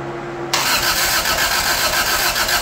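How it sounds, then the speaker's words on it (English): A 1985 Toyota Tercel engine cranks over with a rapid, rhythmic churning from the starter, loud and close, kicking in after a brief quiet moment and continuing steadily. "This is just cranking, oil pressure building first and fill the bowls."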